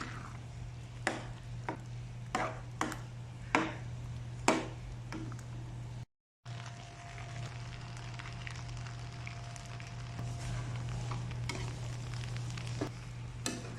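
Fried tofu being stirred into palabok noodles with salt in a pan, soft scraping stir strokes and clicks over a low steady sizzle, close and fairly quiet, with a brief dropout partway through.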